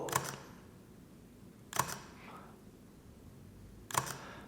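Leica camera shutter fired three times for focus-stacking close-up shots, each a sharp, crisp click spaced about two seconds apart, close and distinct over a quiet background with no talking.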